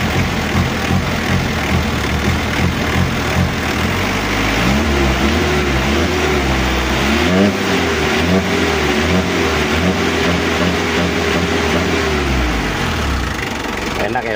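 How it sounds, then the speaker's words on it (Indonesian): A Mitsubishi L300 van engine, upgraded with a new final gear ratio and a 12 mm rotor head, rises from idle into a sustained rev and then drops back. The sound is loud and continuous, with someone talking over it. "Dan suara mesinnya, ini karena suara knalpot jadi gak begitu kedengeran"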